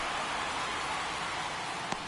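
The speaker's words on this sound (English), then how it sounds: "It feels like we might be headed towards a rain delay if the weather doesn't ease up, Chris." Steady rain pours over a Toronto versus New York Yankees baseball game, a dense, even hiss with a single faint tap standing out near the end.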